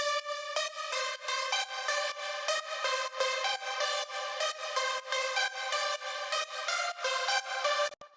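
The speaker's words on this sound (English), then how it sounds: "It's our epic lead from Hive." An epic synth lead from the Hive synthesizer with Saturn saturation and slight widening, a bright, dense stack of sustained chords pulsing in quick rhythmic chops, playing alone at moderate level.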